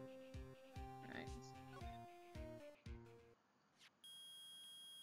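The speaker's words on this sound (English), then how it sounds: "The metal detector's found something!" A metal detector in the Phoenix Wright: Ace Attorney video game sounds a run of stepped electronic beeps and chimes, rhythmic tones rising and falling before ending on a sustained high tone.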